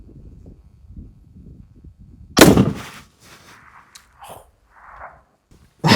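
A single loud Seekins PH3 rifle shot at a 700-yard range cracks out sharply after a quiet stretch, followed by a few fainter thumps and a brief rustle, with another sharp onset right at the end.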